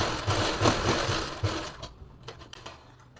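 A sewing machine stitches a pleated suit, with a close, rhythmic run of needle thumps for about a second and a half, then it stops and quieter clicks and handling noises follow.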